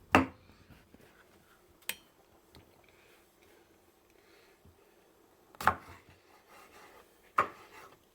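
A knife halves cherry tomatoes on a cutting board in a quiet kitchen, giving four sparse, sharp taps spread apart with near silence between them.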